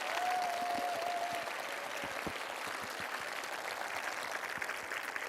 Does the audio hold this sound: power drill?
no